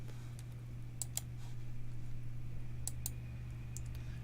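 Several sharp mouse clicks spaced apart, occurring while a table row in a computer program is selected and edited, heard close over a steady low electrical hum.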